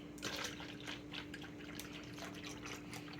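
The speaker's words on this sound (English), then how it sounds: "Now we're going to add some silk cashew milk." Silk cashew milk pours into cups in a steady, quiet trickle, with faint dribbling and splashing close by and no talking.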